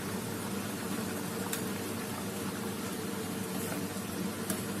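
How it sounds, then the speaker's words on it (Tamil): Prawn kozhambu with coconut bubbling in a pot, a steady hissing simmer with soft popping bubbles, continuous and close, no talking. "இப்ப நல்லா கொதிச்சிச்சு"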